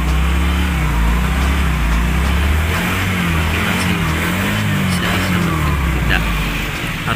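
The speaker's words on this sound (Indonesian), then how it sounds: "Nah, ini motor udah dalam kondisi hidup ya." A small motorcycle engine idles steadily after being restarted from a roadside stall, a continuous close putter with a slightly wavering pitch, while someone talks over it.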